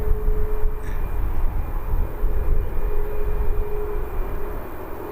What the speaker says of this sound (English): Ryanair is already on the runway.